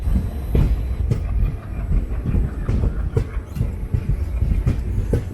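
A 16362 Velankanni–Ernakulam biweekly express train runs on rails near Sasthamkotta, with loud, steady rumbling and a rhythmic clickety-clack of wheels over rail joints throughout.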